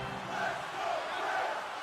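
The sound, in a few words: crowd cheering at a hockey game, from a video game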